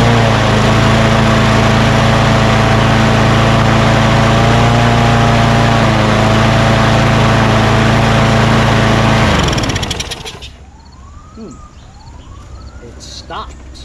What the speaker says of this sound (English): Alright, I'm gonna start it up, I'm gonna put a clamp on here and then lower the RPMs.